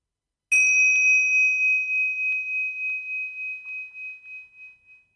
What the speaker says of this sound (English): use the bell to focus you and allow you to settle and center